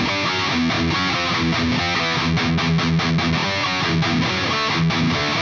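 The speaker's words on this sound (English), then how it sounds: "Then we're going to get into the first riff of the outro that's going to sound like this." Heavy distorted electric guitar plays the chugging outro riff of a song, with punchy chord stabs and brief stops, loud and close, without any voices.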